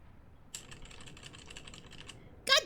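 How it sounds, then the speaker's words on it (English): Computer keyboard keys click in a quick, uneven typing burst, fairly faint and close, followed by a brief sharper noise at the end; no one speaks. "I managed to get rid of the clicking sound when I type on my keyboard"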